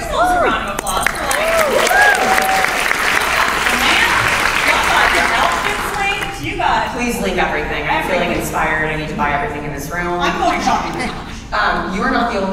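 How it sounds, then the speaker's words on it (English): A crowd at an awards show event applauds and cheers loudly for several seconds, then the clapping thins out as a voice speaks over it. "Give yourselves a round of applause"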